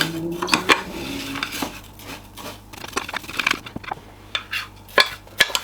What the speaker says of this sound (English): Mix it all up so the rice is all coated.